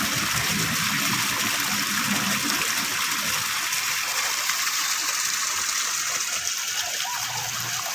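Heavy rainwater rushing and splashing through a farm garden after a morning downpour, a loud, continuous gushing wash that never lets up.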